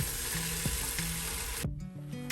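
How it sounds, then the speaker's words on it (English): Vegan mac and cheese ingredients sizzle in a hot pan, a steady close frying hiss with a few soft stirring knocks and a brief scrape near the end, with no talking. "So you can tell our pan is hot. You hear the sizzle, sizzle,"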